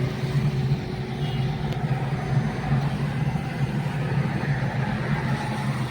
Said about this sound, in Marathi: अशा प्रकारे आम्ही थर्ड गिअरला आलो आहोत